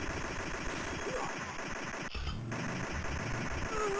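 Steady rapid machine-gun fire in the arcade shooter Operation Wolf, a continuous rattling stream with a brief dropout in the middle, dense and fairly loud throughout.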